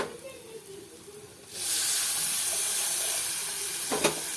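Tamarind water poured into hot frying okra masala in a pan bursts into a loud, steady sizzle that begins suddenly partway through and hisses on, close and unbroken, to the end.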